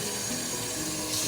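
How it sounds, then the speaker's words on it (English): Two cups of plain water pour into an Instant Pot over birria meat with onions and garlic, a steady close splashing rush lasting the whole moment. "I have 2 cups of just plain water. I'm gonna go ahead and add that."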